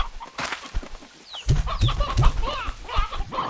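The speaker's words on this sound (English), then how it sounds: "Look at all those chickens." Hens cluck in the video game Slime Rancher 2, a flock with repeated short, close clucks and squawks that grow busier and louder partway through.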